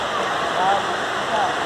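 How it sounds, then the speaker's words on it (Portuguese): A park waterfall near the exit makes a steady broadband rush of falling water, continuous and fairly loud, with faint tonal sounds riding over it. "E voltamos para a primeira cachoeira"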